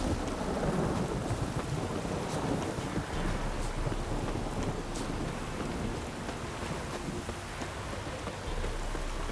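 Steady rain pours with low rolling thunder in The Witcher 3: Wild Hunt video game on a rainy night, a dense, constant wash of sound filling the scene without letup.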